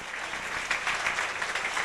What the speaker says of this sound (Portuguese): Vamos aplaudir a Jesus por esta fiel testemunha.